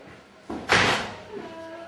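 A wooden door slams once, a sharp loud bang that rings briefly and fades, followed by a softer thump as it settles.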